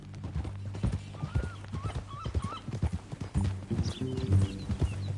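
Horse hooves clip-clop at a steady walking pace in Red Dead Redemption 2, close and fairly loud, with a low rumbling engine-like hum and faint whinny-like tones mixed in; no speech.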